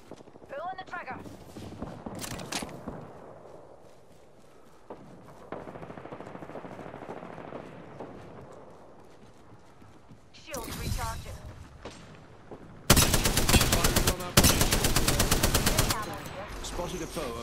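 Automatic gunfire in the shooter game Apex Legends, with rapid rattling bursts near the end, loud and close, after quieter stretches of footsteps and movement. Character voices speak over parts of it.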